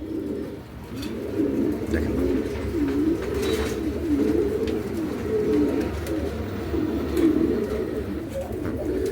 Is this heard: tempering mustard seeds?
no